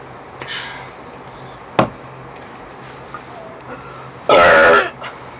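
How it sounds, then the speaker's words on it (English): A contestant in a burping contest lets out a loud, rough burp lasting about half a second, with a fainter short gulp or croak sounding earlier in the quiet room. "I hear you have loud burps"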